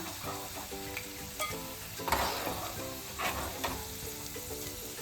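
Chicken pieces frying in hot oil with green chillies and curry leaves, a continuous loud sizzle with occasional scraping stirs of the pan, no voices.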